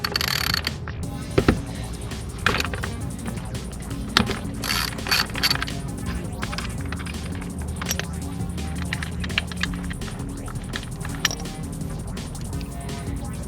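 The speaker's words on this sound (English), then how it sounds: "This will come off with two 12mm bolts." Ratchet working the two 12mm bolts off the connecting pipe on a Subaru engine during TGV and EGR reinstall, giving scattered metallic clicks and clinks over a busy mechanical background.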